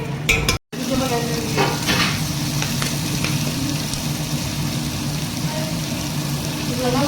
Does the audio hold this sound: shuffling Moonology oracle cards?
no